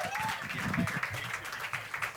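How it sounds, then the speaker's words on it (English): Comedy audience at an outdoor pier stage applauding the host, steady clapping throughout with a voice speaking over it and a brief whistle-like tone early on. "Give it up for your host, Omid Singh."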